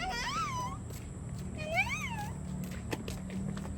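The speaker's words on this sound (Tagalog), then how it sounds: "Ayan po ang aming alagang Bengala." A pet Bengal cat meows twice, each call a rising and falling wail, close by over a low steady background hum, with no talking.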